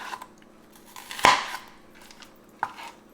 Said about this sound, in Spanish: les voy a mostrar también cómo hacer rebanadas la cebolla